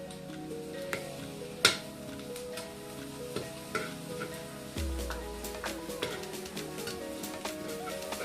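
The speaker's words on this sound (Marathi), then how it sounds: "कांदा थोडा परतून घेतलाय आता लसूण आलं लसूण टाकूया" Garlic and ginger sizzle with onions in a pan over a wood-fired stove, a continuous close frying hiss with scattered clicks and scrapes of stirring and one sharp knock of utensil on pan.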